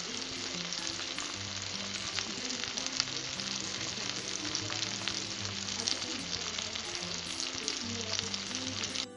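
Chicken thighs sear in a hot pan with a steady, loud, continuous sizzle and crackle, a low hum running underneath, and no talking throughout.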